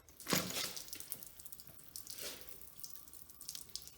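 Water splashes and trickles out of a junked 1968 Ford 302 V8 engine during teardown, a loud gush at the start followed by a second pour and scattered drips.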